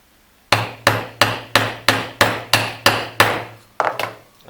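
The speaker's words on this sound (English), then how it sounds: "we can give that a bit of a whack down" A hammer strikes a rivet setter on a leather dog collar, about ten sharp evenly spaced blows, close and loud, each ringing briefly, with a short pause before the last one.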